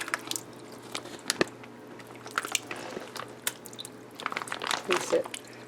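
Sauerkraut dropped and spread over seasoned pork in a slow cooker, giving soft wet squishes and light drips, close and fairly quiet, with a few sharper handling taps.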